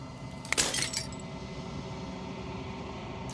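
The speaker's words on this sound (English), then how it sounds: "As the final fragment of glass shatters" Glass shatters in the video game Slay the Princess: a sharp crack followed by a brief burst of tinkling fragments, then a low quiet hum lingers underneath with no talk.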